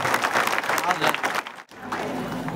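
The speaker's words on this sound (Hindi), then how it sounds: "एक पूरा टीम बर जोरदार ताली बजा के स्वागत कर।" An audience at a public gathering in Chhattisgarh applauds loudly in a dense, steady wash of clapping. It breaks off sharply for an instant, then carries on slightly softer.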